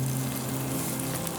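Peppers hit a hot frying masala with a dense, continuous sizzle, close and steady throughout, with no voices.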